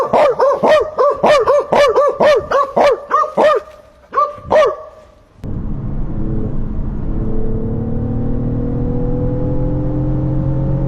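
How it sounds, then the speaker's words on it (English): A dog barks rapidly and repeatedly up close, about a dozen sharp barks in a steady rhythm, then stops as a car engine hum and road roar take over. "She barking, barking,"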